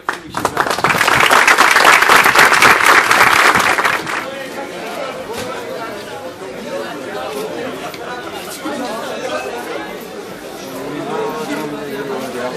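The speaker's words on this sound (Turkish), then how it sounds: "Şimdi mağaza kuruluşunda emeğe geçenleri çok farklı bir alkış istiyorum sizden." A crowd at a computer store's branch opening applauds the setup team: loud, dense clapping for about four seconds, then it fades into crowd chatter and murmuring voices nearby.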